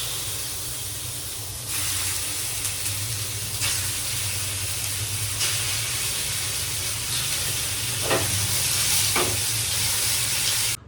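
Chicken fries in ghee in a pan with a steady, loud, close sizzle and hiss that runs throughout, broken by occasional stirring scrapes. No one speaks.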